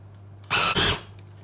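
A kitchen blender runs briefly while blending homemade hummus from canned chickpeas with freshly squeezed lemon juice, a loud whirring burst of about half a second with a short dip in the middle, alone over a low steady hum.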